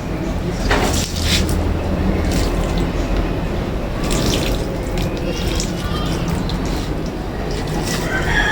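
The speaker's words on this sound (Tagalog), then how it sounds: "didiligan ko na yan sila para may kaunting tubig" Water pours and splashes steadily onto potted plants being watered after repotting, a continuous close rush of liquid with a few knocks and clatters.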